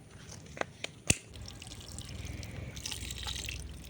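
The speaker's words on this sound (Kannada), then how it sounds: "ಈಗ ಇದಕ್ಕೆ ಸ್ವಲ್ಪ ನೀರು ಹಾಕೋಣ" Water poured onto a potted plant in a home garden, trickling and dripping in a close, fairly quiet stream with a few sharp drip splashes near the start.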